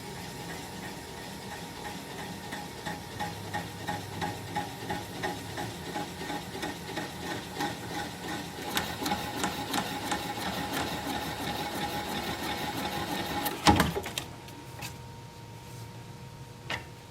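A large piece of wood spins on a lathe while a hand-held gouge cuts into the end grain, giving a steady rhythmic rumble and ticking that builds and roughens. A sharp crack sounds near the end, then a quieter hum.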